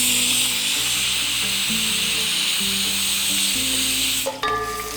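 Black cumin seeds sizzling in hot ghee, a steady bright hiss that runs continuously under a low background hum, with a brief clatter near the end.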